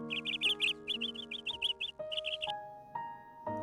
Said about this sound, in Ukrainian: Послухайте, як гарно співають пташки.